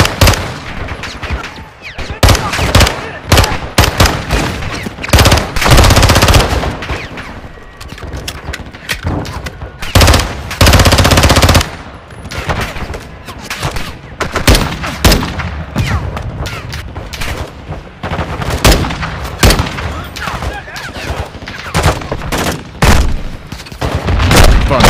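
Dense bursts of rifle and machine-gun fire crack and rattle close by in the Modern Warfare 2 video game, with repeated loud volleys and booming impacts over about twenty-five seconds and brief lulls between.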